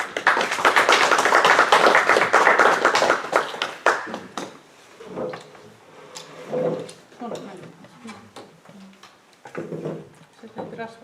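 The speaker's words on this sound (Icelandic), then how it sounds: "þá skulum við gefa Rannveigu gott klapp fyrir þetta." An audience at a historical society's annual meeting breaks into a burst of loud applause for a few seconds, which then fades into scattered taps and voices talking.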